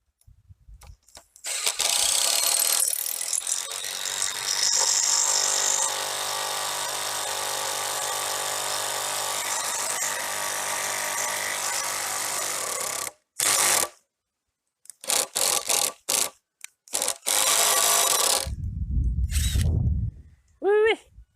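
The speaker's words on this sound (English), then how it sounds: "That is some tough drilling." A power drill whirs loudly and steadily for over ten seconds, then stops and restarts in several short bursts, with a voice near the end.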